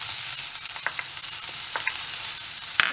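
Chopped onion sizzles steadily in a hot pan, a loud, even frying hiss with a few faint clinks of stirring, no voices.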